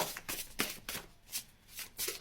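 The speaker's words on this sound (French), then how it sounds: "Ces cartes ne sont pas évidentes à battre." Tarot cards being shuffled by hand: a series of quiet, papery riffles in irregular bursts, close up, with no speech.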